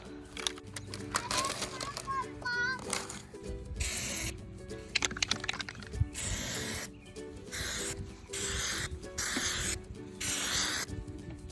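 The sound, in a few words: spray painting a side table with black spray paint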